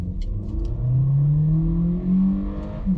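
A car accelerating hard on a test drive, its engine note climbing steadily in pitch and loud throughout, with no talking.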